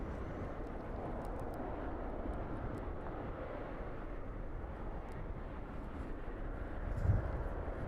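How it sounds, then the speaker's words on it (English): A Boeing 777 taxiing toward its stand at East Midlands Airport gives a low, steady engine hum at moderate distance, fairly quiet and unchanging, with a brief low thump near the end and no speech. "The inbound is indeed making its way up towards the stand now, as this one vacates onto the taxiway."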